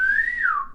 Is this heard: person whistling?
yes